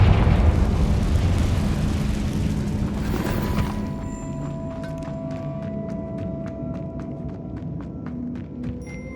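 A Confringo blasting spell detonates in Hogwarts Legacy with a loud, roaring burst that swells, then fades over several seconds into ringing, tinkling debris and a faint lingering hum.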